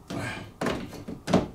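Wooden door set into place on a homemade tool wall cabinet: three solid, close thunks about half a second apart, each a dull knock with a short fading rattle, loud and without talk over them.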